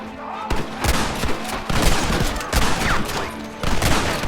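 Rapid volleys of gunfire in the video game Red Dead Redemption, sharp bursts repeating roughly every second alongside heavier booming shots, loud and close, with a voice briefly shouting in between.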